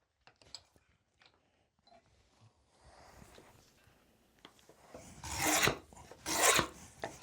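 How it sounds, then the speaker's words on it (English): A small piece of wood being slowly shaved in a forge workshop: scattered faint scrapes and taps at first, then two loud, close rasping strokes near the end. "This little piece of wood that I'm slowly shaving away"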